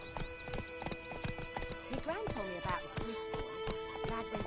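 Roach, a horse in the fantasy video game The Witcher 3, runs along with rhythmic clip-clop hoofbeats that stay close and steady, a brief whinny rising midway, while spoken dialogue plays over the galloping.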